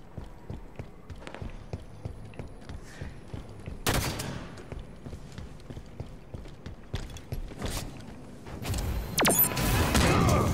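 Gunfire in Halo 5 SWAT mode, scattered sharp shots and clicks over a low game rumble, with a couple of louder bursts and a heavy volley near the end.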